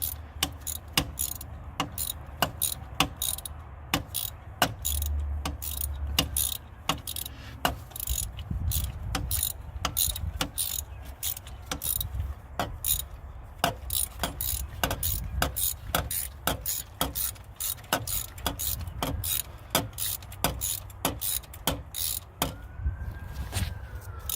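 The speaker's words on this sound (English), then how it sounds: "We're going to tighten this one by hand just to make sure we don't over tighten using the ratchet" A ratchet clicks steadily while a spark plug is tightened by hand on an Infiniti FX35 engine. The sharp, close clicks repeat through the whole stretch over a low background hum.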